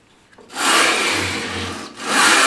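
A Bridge City Tools Joint Maker Pro trims a small piece of wood in two close, rasping saw strokes, a long sustained scrape followed by a shorter second pass after a brief pause.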